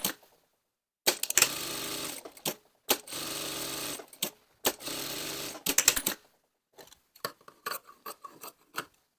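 Sewing machine stitching the pocket bag of an angled waistcoat pocket, running in several short bursts of whirring stitches broken by brief pauses, then a few light clicks and taps near the end.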